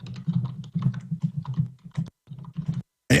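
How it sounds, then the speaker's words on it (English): A computer keyboard clatters with rapid, uneven bursts of close keystrokes and short pauses between runs, heard alone without speech. "And you can hear Paul Watson there typing in the background."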